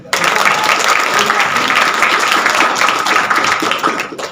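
A student audience at a campus orientation event applauds, with loud, steady, dense clapping that runs for about four seconds and tapers slightly at the close.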